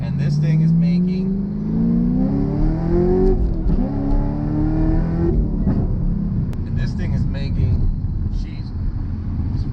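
A 2014 Camaro SS with a Whipple supercharger and long-tube headers accelerates hard and close by, its engine note climbing and then dropping at a gear shift before pulling again, while people talk and exclaim over it.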